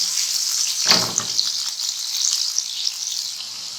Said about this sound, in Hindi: बस इसमें पहले एक साइड से इनको फ्राई करना है, फिर दूसरी साइड से अच्छी तरह से फ्राई करना